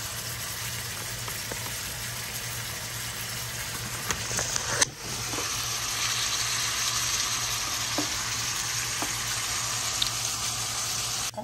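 Mushrooms sizzle and fry in a pan as they cook down, a loud continuous crackling hiss with a brief clatter midway, steady throughout and without voices.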